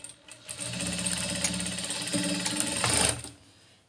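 A sewing machine stitches a blouse in one continuous run of about three seconds, a close, rapid mechanical whirr and clatter that starts and stops abruptly, with no speech.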